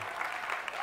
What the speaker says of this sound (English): I welcome your applause